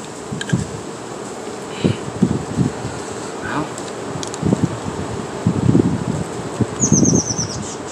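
Bees and wasps buzzing around an outdoor spot, the whine drifting close and away amid rustling, light wind, soft thumps and a few bird calls, with a voice faintly in the background.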